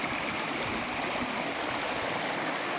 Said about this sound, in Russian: Сплошная пушонка в речку идет.